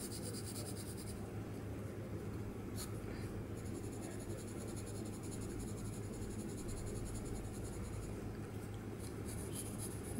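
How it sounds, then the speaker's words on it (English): Steady graphite pencil shading on paper, building a value scale with careful back-and-forth strokes, a continuous close scratchy texture running the whole time, with some faint background hum and no talk. "This is good practice for careful drawing and shading."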